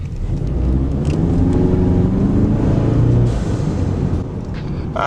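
Turbo whoosh and engine drone inside a Ford EcoBoost Mustang cabin with the windows up and the radio off, a steady loud hum that swells midway and eases toward the end.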